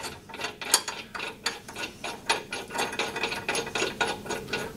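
Ratcheting and rasping as the blade bolt is undone on a Hyundai HYM510SPER electric key-start roller lawn mower: a close series of repeated clicking, scraping strokes in a steady rhythm, with no speech.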